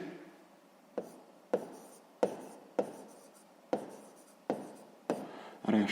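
Scratchy handwriting on paper as a sixth-grade math answer is written out, a steady series of about nine short strokes, each starting sharply and then trailing off, heard up close with no voices.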